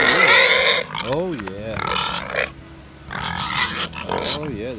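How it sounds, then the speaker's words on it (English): Pigs grunting and squealing loudly while being fed dinner on a homestead, with a person talking to them in between the animal sounds. "The pigs are getting nice and healthy."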